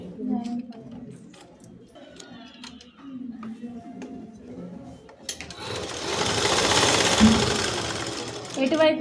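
A sewing machine stitches fabric lining for bell sleeves during tailoring. Intermittent light ticking comes first, then the machine runs as a steady, close whirring burst in the second half.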